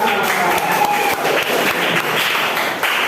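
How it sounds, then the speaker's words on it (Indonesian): Students in a classroom applaud a classmate after a Quran recitation, a dense, steady patter of clapping lasting a few seconds with some chatter mixed in. "Mari kita beri tepuk tangan untuk Hamzah."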